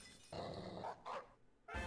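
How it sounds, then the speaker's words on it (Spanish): A dog barks in the Pokémon Black game, two or three short, gruff barks separated by brief pauses, close and clear with no talking over them. "Ha sido un puto ladrido eso."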